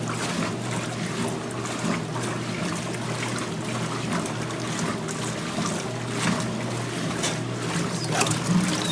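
Black agitators in a washing machine churn and splash water inside the tub, a steady close sloshing and rumbling wash that runs continuously with a low hum underneath and no talking.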